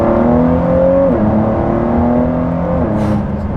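A six-cylinder hypercar engine revs loud and close, its pitch climbing, dropping briefly and climbing again in a steady, continuous snarl with no talking.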